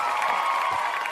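A short burst of canned applause and cheering from a crowd, dense and steady for about a second, with no talk over it.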